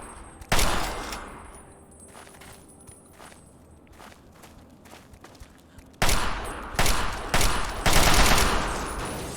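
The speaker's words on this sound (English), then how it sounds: "this assault rifle is so useful" Assault rifle gunfire in Fallout 3, loud bursts of rapid shots at the start and again over the last few seconds, with quieter single cracks and footsteps in between.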